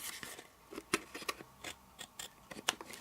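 Scissors trim excess cardstock from a handmade box: a series of sharp, close snips and crisp paper cuts in an irregular rhythm, heard alone without any talking.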